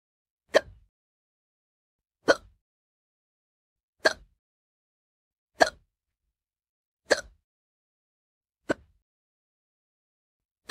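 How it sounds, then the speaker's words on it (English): Six crisp hiccups from someone who has been drinking beer, evenly spaced about every one and a half seconds, close-up and alone against silence. "I'm surprised I got the hiccups so quickly this time."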